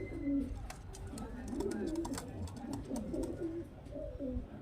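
Pigeons in a sale stand, several low throaty coos rising and falling in a steady series, close and moderately quiet, with light clicks and rustling in the background.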